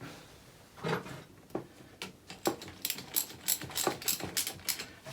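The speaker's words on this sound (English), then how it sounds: "now we can look at tightening this up" Hand ratchet tightening parts on an MGB GT Sebring under restoration, a rapid series of close, crisp clicking pawl strokes that grow quicker and denser toward the end, with no talking.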